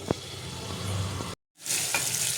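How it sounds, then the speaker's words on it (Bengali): Mutton frying in a pan on low flame, a close steady sizzle broken by a short silent gap before the hiss resumes. "এবার খুব ঢেকে ঢেকে আস্তে আস্তে এটা আমি ভাজবো"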